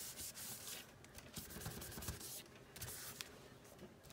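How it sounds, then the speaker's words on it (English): Steady dry rubbing and scuffing as ink is burnished off white frost shimmer paint on card for a faux mother-of-pearl finish. The scraping is close and continuous, in uneven strokes with no talk. "So you just burnish that off"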